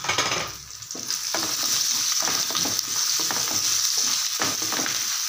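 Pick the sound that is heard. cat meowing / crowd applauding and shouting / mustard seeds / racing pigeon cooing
mustard seeds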